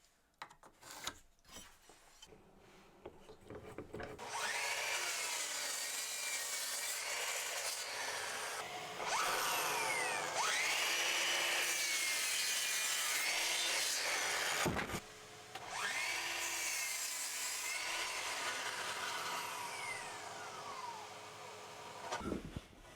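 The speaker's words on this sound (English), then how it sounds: "I'm going to mark out a 10-degree angle and cut some bits on the miter saw" Miter saw cutting angled wood pieces for garden bench legs: a loud whining motor spins up and bites through timber in several long cuts, with brief pauses between passes and quiet handling sounds at the start.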